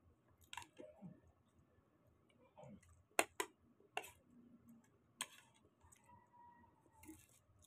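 Someone chews a mouthful of leftover egg at breakfast, producing soft, close, wet mastication noises and a few sharp clicks between quiet gaps.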